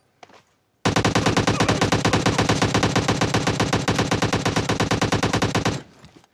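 Sustained automatic gunfire in PUBG Mobile, a loud continuous burst of rapid rounds lasting about five seconds after a brief faint sound, then stopping abruptly.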